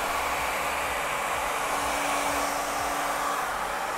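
Loud, steady hair dryer roaring up close as it dries airbrushed paint on a softball helmet, a continuous breathy whoosh with a low motor hum and no speech.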